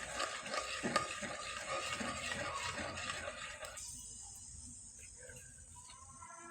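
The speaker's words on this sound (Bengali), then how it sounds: "এবার ভালোভাবে নেড়ে চেড়ে এই মিশ্রণটা বলক নিয়ে আসতে হবে" A spiced mixture with bay leaves, cinnamon, cardamom and a little salt is stirred in a pot, with soft frying sizzle and spoon scraping. The stirring fades midway into quieter simmering with faint high insect-like chirps, and no talk.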